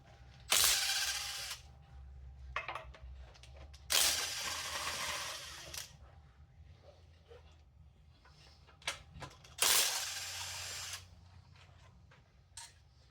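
A ratchet fitted with a 14 mm socket cranks engine mount bolts loose on a Toyota 7M-GTE engine, three loud bursts of rapid clicking separated by quieter handling and small metallic knocks, with no talking.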